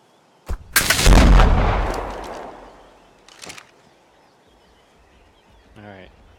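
Gunfire aimed at a crocodile in the video game Ark Survival Evolved: one sharp shot, then a long loud roaring burst that slowly fades, a second short shot and a faint chirp at the end.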